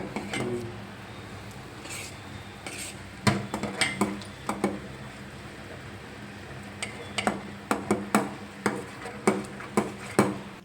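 A spoon scrapes and knocks against a pot while a thick sweet mixture is stirred firmly from the bottom, giving irregular clinks and taps, sparse at first and then in a quicker, steadier rhythm.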